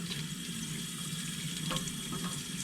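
Water pours steadily from a tap into a Euro tray sprouter, a continuous close splash and trickle of filling liquid with no talk.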